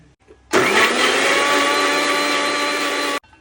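A mixer grinder blends mayonnaise ingredients of salt, sugar, chilli powder, water and vinegar, a loud steady motor whir starting abruptly and running nearly three seconds before cutting off, heard alone and close.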